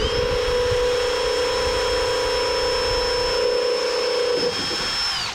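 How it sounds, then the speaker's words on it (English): A power drill whines at a steady high pitch while boring a hole in a Zenith 750 Cruzer aircraft seat kit, running close and continuously for several seconds before spinning down. "Drill this hole"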